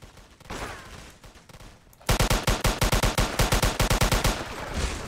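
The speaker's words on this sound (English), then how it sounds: "I'm going towards the gunfire." In the video game Polyguns, after a stretch of rumbling ambience, a loud rapid burst of machine gun fire rattles in quick, evenly spaced shots.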